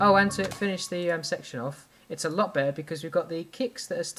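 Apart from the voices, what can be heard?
None of the usual background noises is heard.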